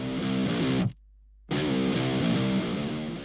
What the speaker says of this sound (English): If I pull this down, you can hear a lot more low end.